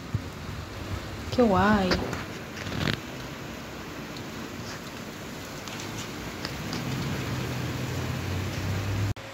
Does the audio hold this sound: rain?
yes